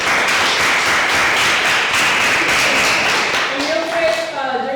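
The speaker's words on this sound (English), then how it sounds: "So let's do another golf clap" Sustained, fairly loud applause from a lecture audience, a steady wash of clapping that eases slightly near the end while a voice begins underneath.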